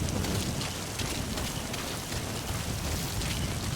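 Rainfall in a shooter video game, a steady dense hiss of rain with low rumbling underneath, soft and continuous throughout with no voices.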